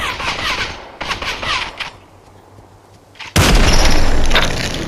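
Gunfire from a VR shooter game with rifles and sniper weapons: bursts of rapid shots in the first two seconds, a quieter lull, then a loud sustained barrage of fire and booms from about 3.3 seconds onward.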